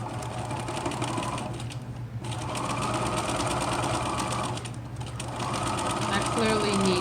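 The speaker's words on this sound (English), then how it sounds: "I clearly need to oil my machine. You can hear it." A sewing machine in need of oiling runs steadily while stitching around the edge of a cloth face mask, with a mechanical whir and two brief pauses, close up.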